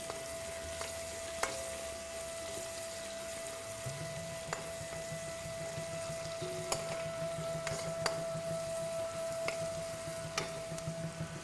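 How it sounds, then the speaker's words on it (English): Onion sizzles in a pan for an aloo gobi dish, a steady close frying hiss dotted with occasional sharp clicks and a faint constant tone. "now when you are cooking onion"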